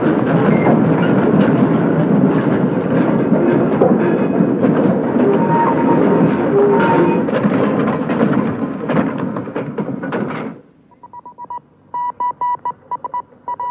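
In the 1935 film The 39 Steps, a train departs and runs on rails with a loud, dense rumble and rattling clatter for about ten seconds, then cuts to quieter, intermittent tonal beeps.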